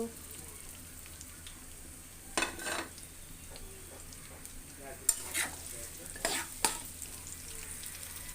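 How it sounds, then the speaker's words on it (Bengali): Onions and spices fry in oil in a wok for dried loitta fish bhuna, a soft low sizzle broken by several brief scraping bursts as a spatula stirs, fairly quiet and close. "কড়াইতে তেল দিয়ে দিয়েছি আর সব উপকরণগুলো একসাথে দিয়ে দিব"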